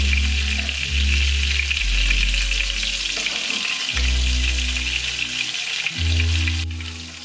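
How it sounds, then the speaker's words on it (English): Sliders fry in a pan, a steady close sizzle and crackle that carries on throughout beneath a backing of loud music with strong low notes, and no one talking. "I just cook it right in a pan"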